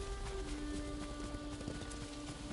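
Horse in Ghost of Tsushima, steady clip-clop of hooves at a brisk pace over a continuous game soundscape with tonal music humming underneath.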